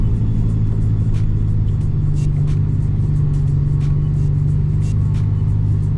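A Toyota JZX100 with a modified front spindle rumbles along a road, engine droning steadily, with a few sharp knocks as it rolls over bumps.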